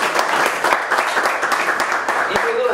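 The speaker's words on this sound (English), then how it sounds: "Let's give him a round of applause." A crowd at a weekly startup meetup claps loudly and briskly for a speaker, with distinct individual claps close by and a brief voice near the end.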